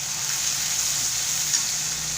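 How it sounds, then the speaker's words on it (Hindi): Spices frying in hot oil for aloo gobhi, a short, bright and steady sizzle heard up close with no other sounds. "तेल में हमें सारे मसाले भून लेने हैं एक करके"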